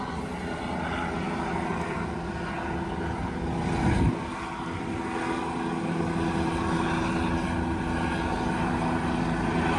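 Steady loud aircraft engine and rotor drone dominating the scene, with a brief swell partway through as it passes close by.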